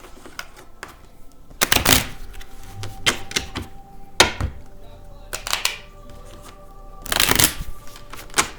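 Tarot cards are shuffled in several quick riffling bursts with soft tapping and handling between them, close and clear, with no talk.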